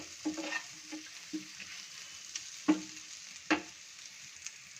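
Spices frying in a pan for a prawn paste dish, a faint low sizzle with a handful of soft, spaced stirring scrapes and taps, close but quiet, no voices.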